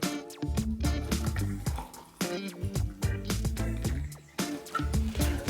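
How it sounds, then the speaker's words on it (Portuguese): Water is poured from a vessel into a jar packed with carrots for a probiotic ferment, a steady splashing and gurgling fill with dripping, close and continuous with brief pauses. "agora eu vou cobrir isso aqui de água até a boca"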